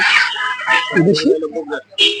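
Native chickens cluck and squawk at a busy market, with bright, choppy calls close by and people talking over and between them.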